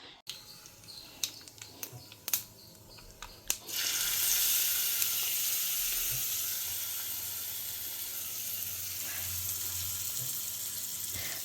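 A steady, loud crackling sizzle of spices and split chickpeas with asafoetida hitting hot oil for tempering, starting abruptly after a few sharp pops and continuing without a break.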